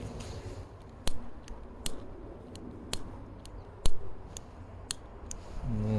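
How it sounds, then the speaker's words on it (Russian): A frozen gas lighter is struck again and again outdoors in winter while trying to light a fire-starter cube, giving about nine sharp, close clicks at uneven intervals over a quiet background. "Ну, замерзла опять зажигалка."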